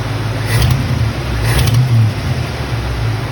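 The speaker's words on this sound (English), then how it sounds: "And when you rev the engine," A classic Ford engine with new motor mounts revs in two short bursts over a steady loud idle, the rumble swelling and easing back each time, close by with no talking.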